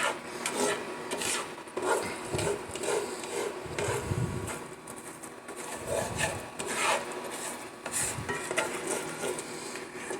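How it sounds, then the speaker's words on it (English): Repeated scraping and rasping of a utensil across a buttered pan as scrambled eggs cook, a steady rhythmic rub with several louder strokes, close and unaccompanied by speech. "you can't be scraping the pan like this"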